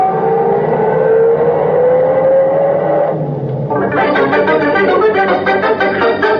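A car engine revs up and pulls away after a brief lull, its pitch rising and then settling into a loud, close, rough growl with no voices over it.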